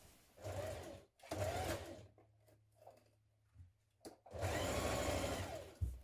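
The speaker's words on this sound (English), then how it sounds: "we can also edge finish around our pocket with an overlocker or a zigzag stitch" Overlocker finishing the edge around a fabric pocket for a dress: short, close bursts of fast whirring with gaps between, ending in a longer steady run.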